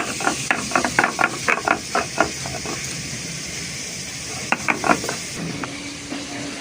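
Ginger and garlic ground together into a paste, by hand, in a Bengali home kitchen while a spicy snail curry is being made. Quick rhythmic bursts of scraping and grinding come in two spells, with a pause between them.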